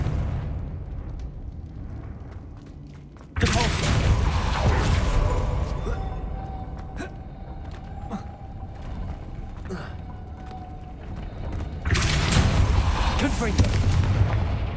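Fiery Confringo spell blasts in the video game Hogwarts Legacy, two heavy bursting booms, each trailing into a sustained crackling roar over low game ambience.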